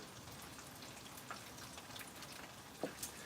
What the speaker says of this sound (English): now you're going to double fry your pork.